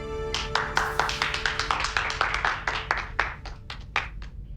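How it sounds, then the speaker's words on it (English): Crew members applauding on a Star Trek starship bridge, a small group clapping in a steady, fairly close patter over a faint electronic hum, with no talk. "Picard walks onto the bridge, everyone claps."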